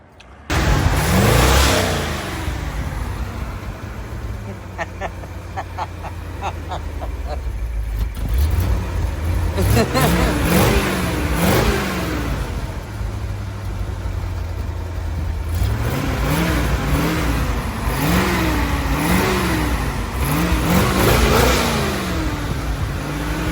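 A Ford car with a starter problem runs at idle, its engine droning steadily through the whole stretch with a few brief rises in pitch, while people talk over it.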